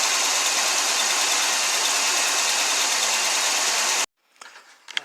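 A Chevy engine idles steadily after a P0300 misfire repair, a loud, even broadband rumble running for about four seconds before cutting off abruptly, followed by a few faint knocks and clicks.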